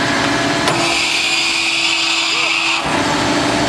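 A KATO HD 1430 excavator fitted with a CMB RB 26 hydraulic breaker revs its engine to working throttle, a loud steady high-pitched drone with a whining tone that cuts off abruptly near the end.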